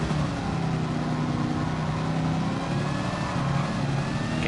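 A race car in a Goodwood driving video game accelerates with a steady engine drone and a thin, high supercharger whine rising faintly above it, continuous and close throughout.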